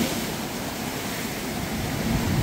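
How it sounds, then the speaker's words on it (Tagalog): Strong ocean waves as the water rises near shore, a constant loud rushing surf roar with wind-like hiss and no talking. "palakas din yung alon, palaki na palaki."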